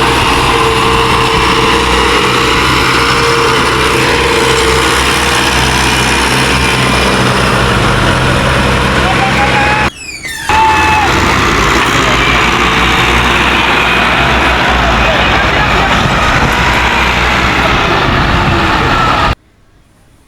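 A tractor engine runs loud and steady in a field during a maize harvest in stormy rain, a constant close drone with one brief dropout midway and a cut-off at the end.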